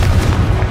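Casting the Confringo fire-blast spell in Hogwarts Legacy produces a loud, booming explosion with a thick low rumble, a single heavy blast up close and nobody talking over it.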